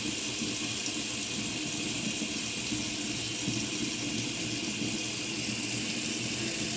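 Hot water runs steadily from a tap fed by a Clage MCX4 electronic instantaneous water heater, a constant close hiss and splash with no pauses.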